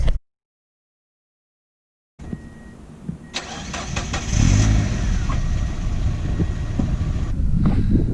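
A Mazda NB Miata with a Racing Beat axle-back exhaust cranks and fires up after a moment of silence, settling into a loud, burbling idle with a few blips of revving, close by and with no voices.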